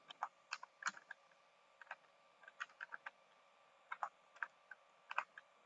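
Someone types a value on a computer keyboard in short, irregular bursts of light key clicks, close by and quiet, with brief pauses between bursts.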